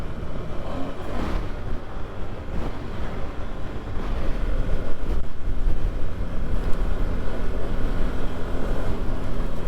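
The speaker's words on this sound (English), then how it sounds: "Caught a gust of wind that shook my helmet." Strong wind buffeting a motorcycle helmet on a desert trail ride, a continuous loud roaring rumble that swells into a heavier gust partway through, with no speech.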